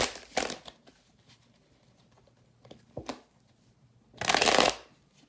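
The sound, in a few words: shuffling tarot cards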